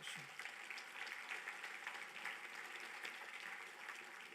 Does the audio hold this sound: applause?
yes